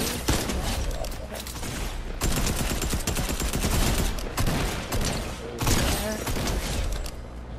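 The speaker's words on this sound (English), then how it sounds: "Shots this way, people." Gunfire in the video game Fortnite comes as loud, rapid bursts of shots in dense, repeated volleys across the whole stretch, with no one talking.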